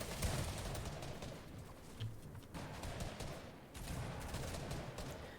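Dense, continuous video game gunfire in a competitive match, a steady barrage of rapid shots and blasts heard close and loud throughout, with no speech.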